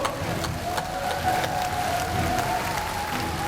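Steady crowd applause fills a political rally hall in Gangwon for a Saenuri Party presidential primary candidate, a dense, even patter of many hands held at constant loudness without a break.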